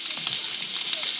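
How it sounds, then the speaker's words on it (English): A steak sizzles on a griddle pan, a steady close hiss and crackle with a faint voice in the background. "When I put it on, the sizzle was amazing."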